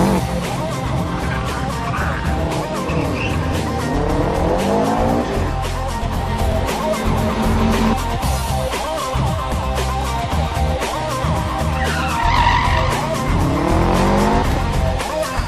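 Rally car on Toyo Proxes R888 tyres competing in a tarmac rally in New South Wales, its engine revving hard through gear changes while the tyres squeal and skid, loud and continuous throughout.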